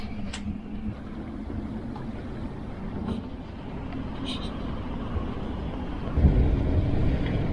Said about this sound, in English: the wind has been pretty steady here